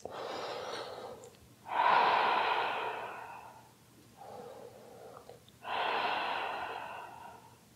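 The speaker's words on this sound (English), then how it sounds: "Two more breaths." Slow, deep breathing held in a yoga pose, audible as two long airy breath cycles of inhale and exhale, close and soft with short pauses between and no speech.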